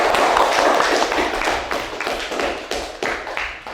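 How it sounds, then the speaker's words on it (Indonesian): A classroom group claps hands together after a discussion session, a dense, steady burst of overlapping claps that stays loud throughout and thins slightly toward the end, with no talking. "Sekali lagi tepuk tangan untuk kita semua."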